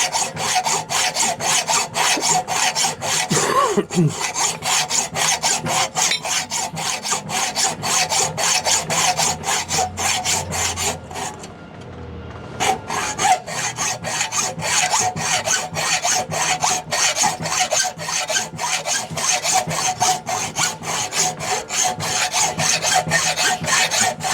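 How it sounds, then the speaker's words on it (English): A hacksaw cuts metal while a branding iron is being made, with fast, steady back-and-forth rasping strokes that run loud and close and pause briefly midway. "then I'll have to try and clean it up to cut it with hacksaw"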